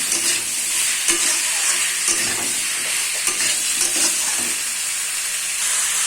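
Vegetables with ground coriander and Maggi masala frying in a hot pan, a continuous sizzle broken by repeated scraping stirs close up, with no voices.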